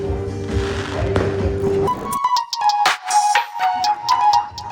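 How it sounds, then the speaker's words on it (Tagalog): Steady crowd murmur gives way to a run of sharp bangs and crackling bursts, fireworks popping in quick irregular succession at middle distance, at a Christmas event in a town plaza in Bataan, Philippines. "Sinundan pa yan ng fireworks display."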